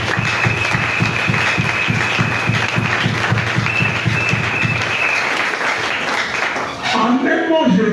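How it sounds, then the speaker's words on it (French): A church congregation claps in a fast, steady rhythm and cheers in praise, loud and close, with voices calling out over the applause before it fades into scattered shouts. "On acclame pour la gloire du Seigneur."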